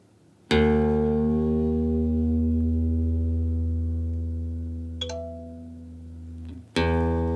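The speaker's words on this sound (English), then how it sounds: "turn the appropriate tuning head to tighten the string or to loosen" A single low E guitar string rings out and sustains, its pitch wavering slightly as the tuning head is turned, then is plucked again near the end.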